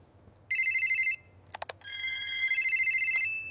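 A phone rings with a bright electronic ringtone, two bursts of warbling tones separated by a short gap with a few quick beeps, clear and close against a quiet background.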